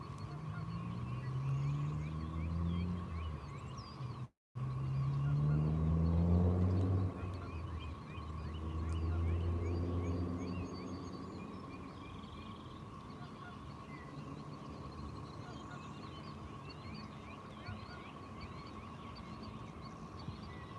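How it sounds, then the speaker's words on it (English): Geese honk outdoors in a loose series of loud, nasal calls that swell near the start and middle, then fade to quieter distant honks over a steady background hum. "Sitting outside drinking coffee, heard the geese"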